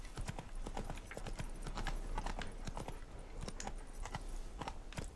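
Horse hooves clip-clop in The Witcher 3 video game, a quick, regular run of sharp knocks at walking pace, fairly close and clear over a low steady background hum.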